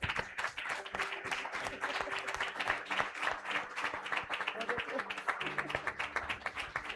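A church congregation at a family worship service claps together, a dense, sustained applause with voices faintly mixed in beneath the clapping.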